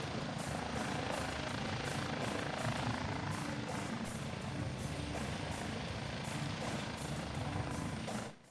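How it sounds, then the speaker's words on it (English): An Airbus H135T2 rescue helicopter flies during a rescue demonstration at the Pardubice airshow, its rotor thumping in a steady, fast pulse over continuous engine roar, fairly loud and unbroken until it cuts off at the end. "the Airbus helicopter H135T2 you can see in action during this rescue demonstration"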